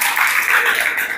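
A brief burst of clapping from an audience at the inauguration ceremony of a 2024 Dhamma class. The applause is dense and steady, lasting only about a second.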